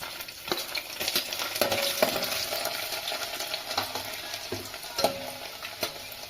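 Garlic fries in a pan with cinnamon and bay leaves, a soft steady sizzle punctuated by repeated sharp scrapes and taps of a spatula stirring, fairly quiet and close.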